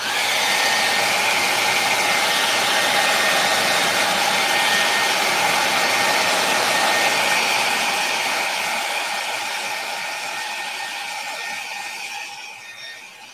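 A hair dryer blows steadily and loudly over a mixed media magazine art project, a continuous close whir that holds for most of the span before easing down and tapering off at the end, with no talking.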